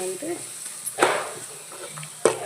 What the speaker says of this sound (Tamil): நல்லா வதக்கிடலாம். அது மஞ்சள் சேர்த்துட்டு மிக்ஸ் பண்ணிக்கலாம்.